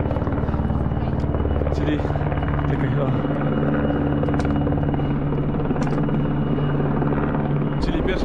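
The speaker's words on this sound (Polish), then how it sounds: "przeszkadza mi ten helikopter" A helicopter flying over the High Tatra mountains gives off a continuous loud rotor drone and buzz that holds steady throughout, while someone speaks briefly over it.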